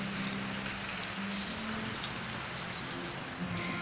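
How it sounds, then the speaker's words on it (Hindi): Rain falls steadily in a dense, even hiss that runs the whole time, with a faint low hum underneath and a few small clicks. "बारिश हो रही"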